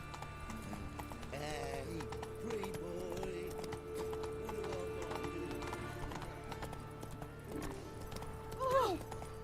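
Roach, the horse in The Witcher 3, trots with steady clip-clop hoofbeats under in-game voices and music, ending with a short whinny near the end.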